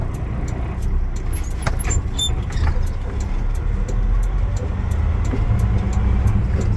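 A truck in neutral with the clutch held in, its engine rumbling low and steady as the vehicle coasts and slows, with continuous road noise throughout and no talk.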